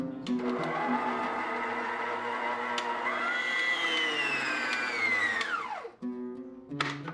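An electric hand mixer whirs steadily at medium speed, beating eggs, sugar and vanilla essence in a mixing bowl. The motor tone climbs and then drops as it is switched off near the end, then restarts briefly, with no talk.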